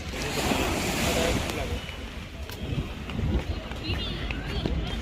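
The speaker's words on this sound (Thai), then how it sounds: "ทะเลเกาหลีครับนี่ครับ" Sea waves washing onto a crowded beach in Busan, Korea, a close broadband surf roar with wind buffeting the microphone and someone speaking over it.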